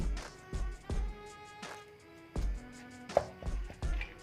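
A pestle pounds tamarind chili paste with dried shrimp in a mortar, producing a steady series of dull, heavy thuds a few times per second, close and alone.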